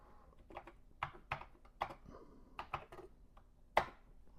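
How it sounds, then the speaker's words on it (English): Keys pressed one at a time on a Commodore computer keyboard while entering a drive number for a CBM 8050 disk drive, about a dozen crisp, irregular clacks, close and quiet. "I kind of like typing the drive number"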